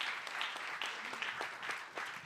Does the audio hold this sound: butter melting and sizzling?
no